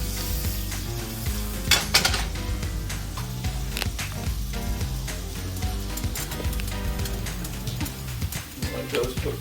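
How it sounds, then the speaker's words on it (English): Mushrooms sizzle in butter in a pan, a steady crackling fry broken by clanks and scrapes of a utensil against the pan, with occasional voice in the background. "So I'm going to put a little butter in the pan. Then I'm going to throw my mushrooms on."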